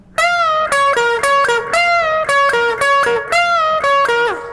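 An electric guitar plays a solo phrase with string bends: bright sustained notes repeatedly bent up a whole step and released in a quick rhythmic pattern, loud and close with no talking.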